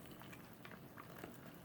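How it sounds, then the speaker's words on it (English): Boiling water is poured into a Mountain House freeze-dried meal pouch, making a soft, steady, faint bubbling trickle that runs continuously for under two seconds. "We're going to carefully pour this into the pouch."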